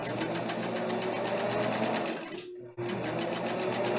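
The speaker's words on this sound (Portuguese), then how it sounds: "eu vou fazer outra costura" A sewing machine runs steadily while stitching a seam on a fabric patch, a close, loud whirring that stops briefly near the middle and then starts again.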